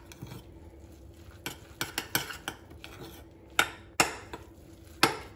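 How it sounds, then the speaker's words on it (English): Two egg whites being mixed into a cauliflower pizza crust: a utensil clinks and scrapes against a bowl in irregular taps, with several sharper, louder knocks standing out, close and without talk. "I will take my 2 egg whites and add that. And we're going to mix that in as well."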